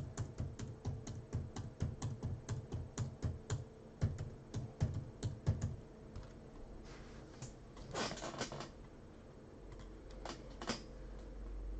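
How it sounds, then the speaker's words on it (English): Numbers being typed on a computer keyboard, a quick run of crisp key clicks followed by scattered taps and a few louder clacks, close and fairly quiet. "I'm just going to be typing in 1 through 12"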